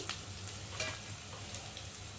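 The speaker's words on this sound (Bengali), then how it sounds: "পেঁয়াজটা একটু ভেজে নিই।" Onion frying in a pan for a country chicken curry, a steady soft sizzle with a few light stirring clicks, no voices.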